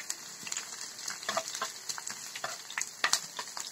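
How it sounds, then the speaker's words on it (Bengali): Onions fry with stinging catfish roe and ginger paste in a pan, crackling and sizzling close by in uneven bursts, with brief scraping stirs mixed in. "এখান দিয়ে আমার শিং মাছের ডিমে পেঁয়াজটাও লাল হয়ে যাচ্ছে।"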